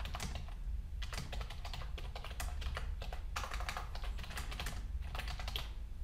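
Rapid keystrokes on a computer keyboard while writing in the Nano text editor on an Ubuntu server, a close, steady clatter in uneven bursts with short pauses, no talking.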